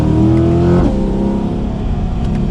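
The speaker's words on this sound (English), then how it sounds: "I'll give it a little bit of gas here." A C8 Corvette Stingray engine revs hard under acceleration in Sport mode, a loud continuous roar rising in pitch, then dropping briefly at a gear change before climbing again, heard from inside the car.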